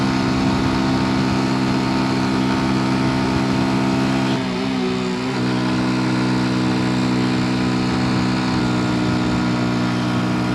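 A Honda 90 motorcycle engine drones steadily while riding, a loud continuous buzz with a brief dip in pitch midway, as if easing off the throttle, before settling back.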